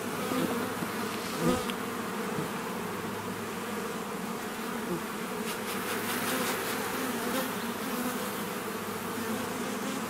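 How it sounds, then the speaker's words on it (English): A dense, continuous buzzing of many bees fills the air, steady and close, with occasional louder passes near the listener. "That's a lot of bees."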